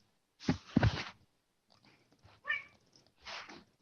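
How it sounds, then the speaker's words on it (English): A house cat makes several short meows and vocal chirps, one louder double cry at the start followed by three fainter calls, close and quiet, with no talking. "That was a cat noises."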